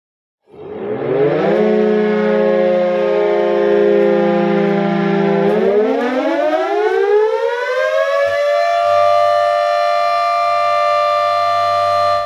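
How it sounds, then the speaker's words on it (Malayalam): A dam warning siren on a trial run at Irattayar Dam in Idukki sounds one loud, sustained wail that climbs steadily in pitch and holds high, alone with no voices. "ഇന്ന് രാവിലെ 11 മണിയോടെയാണ് ഇരട്ടയാർ ഡാമിൽ സൈറൺ ട്രയൽ റൺ നടത്തിയത്"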